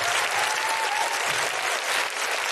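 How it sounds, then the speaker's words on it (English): Live audience applauding for Julia Střelou at a podcast recording in Auckland, New Zealand; dense, steady clapping from a full room that holds loud throughout and eases slightly near the end. "Could I have a big round of applause for Julia Střelou?"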